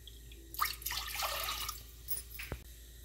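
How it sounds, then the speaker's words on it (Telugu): Water being poured into a pressure cooker holding semolina for kudumulu, a splashing, bubbling pour of about two seconds followed by a few faint drips. "2 కప్పులు వాటర్ వేసుకోండి."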